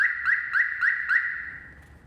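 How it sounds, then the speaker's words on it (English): A Compustar car alarm sounds close and loud, a rapid rising whoop repeated about five times in quick succession before fading out. "I'm fairly happy with this alarm system because you can hear it at least"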